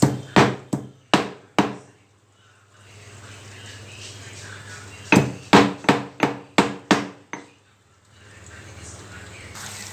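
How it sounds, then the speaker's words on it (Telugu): Ginger being pounded, likely in a mortar while making a Telugu egg curry: sharp rhythmic thuds in two bursts of about five strikes each, with a steady sizzle of onions frying in the pan underneath. "అల్లం ముక్క దంచేసుకున్నాం ఫ్రెండ్స్"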